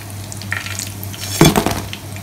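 Chicken frying in hot oil for Kolkata China Town–style crispy fried chicken, giving a steady close sizzle, with a louder burst of crackling and scraping as pieces are stirred or lifted partway through.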